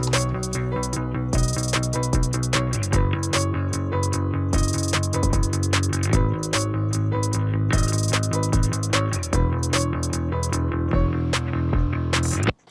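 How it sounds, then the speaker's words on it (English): A stock Logic drummer programmed drum kit plays a steady groove inside a full, loud mix, with punchy kicks and crisp hi-hats under layered music. "this is just a stock Logic drummer. It's amazing. Let's hear it in the mix."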